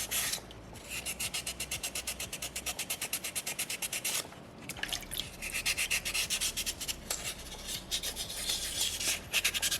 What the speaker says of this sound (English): You just want to make sure you're smoothing it out with sandpaper number 2.